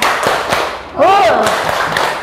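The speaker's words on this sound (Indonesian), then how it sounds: "Kita kasih tepuk. Tepuk 1, 2, 3." Classroom students clap together on the teacher's cue, several sharp rhythmic claps in a quick pattern, close and loud, with voices chanting over them.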